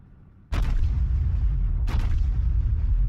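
Main guns of the battleship USS North Carolina fire in World of Warships: two heavy booming salvos about a second and a half apart, each with a long rumbling tail, loud and close, with no talking.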